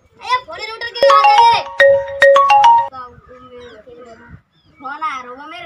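A melodic electronic ringtone plays a repeating pattern of bright tones, with a voice talking before and after it.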